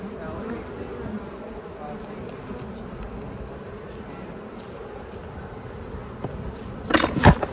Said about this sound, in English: We're looking at our big honey producing hive.